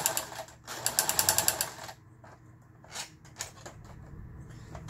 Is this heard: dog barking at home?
no